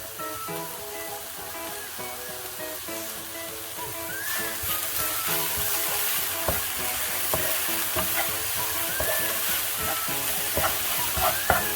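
Wonton filling being mixed by hand, wet sticky squelching and slapping strokes in a steady rhythm, moderately loud and close, with faint high squeaks, no talking.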